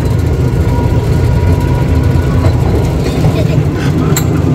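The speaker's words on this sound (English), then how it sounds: "And she's on the train, we're on the train" An amusement park ride train at Butlins rumbles steadily and close throughout, a continuous low mechanical drone with faint voices mixed in.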